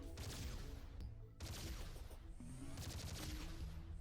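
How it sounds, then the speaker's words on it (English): Rapid, loud weapon fire from a gun in the video game Terraria with the Calamity Mod, sustained volleys broken by a brief pause, with no talking. "It shoots for free, it doesn't cost any ammo."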